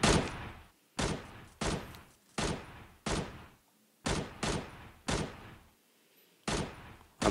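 About ten sharp sniper rifle shots in the shooter game Knives Out, fired one at a time at a slow, uneven pace, each a loud crack with a short decaying tail.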